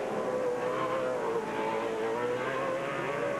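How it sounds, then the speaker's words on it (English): Off-road race truck engines with PRD-prepared power plants roar steadily at an off-road racing event at Firebird Raceway in Chandler, Arizona, a loud continuous high-pitched scream with shifting revs. "PRD prepared power plants both in Johnny Greaves and in Rick Huseman's truck. Those things scream"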